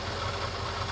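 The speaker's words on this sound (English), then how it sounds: "So we got the car warming up." A Mercedes E55 AMG idles steadily while warming up, a smooth, constant engine drone with no revving, heard alone at moderate level.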